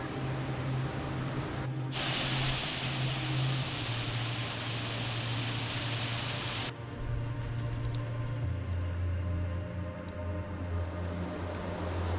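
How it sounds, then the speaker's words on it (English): Waterfall in the high country after heavy rain, a steady broad rush of falling water that holds loud and even throughout, with a low tone humming underneath and a brief change in the hiss partway through. "It's a waterfall."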